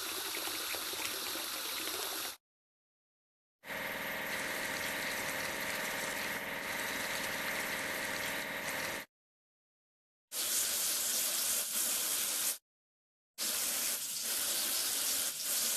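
Water sprays and gushes steadily onto a cartoon fire engine during a vehicle-washing game, in several long bursts separated by short silences, with no voices.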